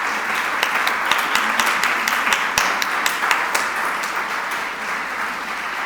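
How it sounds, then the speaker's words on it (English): Audience applause for opposition leader Maryam Rajavi fills the hall, a dense, steady wash of many clapping hands with sharper individual claps popping out, sustained and fairly loud throughout. "So I want a big applause for her."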